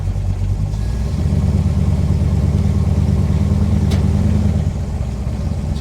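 Big block Chevy V8 in a Pontiac cranking hard, a steady loud rumbling engine drone that holds evenly for several seconds, close up, with no voices over it.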